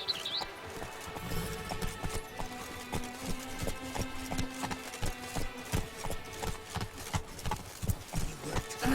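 Roach, Geralt's horse in The Witcher 3: Blood and Wine, galloping with steady rapid hoofbeats on the ground, loud and close, with game music underneath and no speech.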